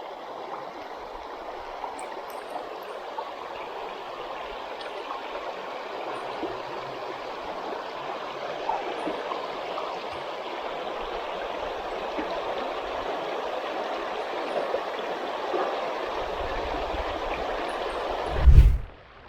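A river runs over a shallow riffle, a steady, full rushing and gurgling that holds evenly throughout, ending with a brief close thump.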